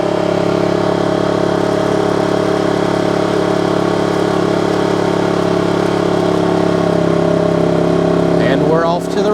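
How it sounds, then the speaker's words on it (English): A smart generator paired with an EcoFlow Delta 3 Max auto-starts and runs, a loud, steady mid-pitched engine drone with constant vibration throughout, alone and close by. "the smart generator auto start and stop"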